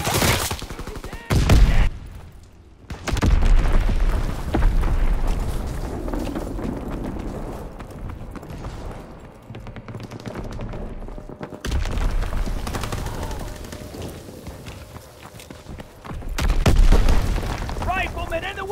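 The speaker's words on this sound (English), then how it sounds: "Enemy bomb incoming! Get to cover!" In the World War II shooter game Call of Duty: WWII, heavy bomb blasts boom over rattling bursts of gunfire in a dense, chaotic battle, with voices shouting now and then.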